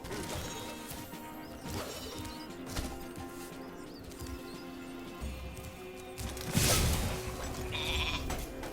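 A sheep bleats amid game sounds and thumps in Spyro the Dragon, with one sharp crash near the end.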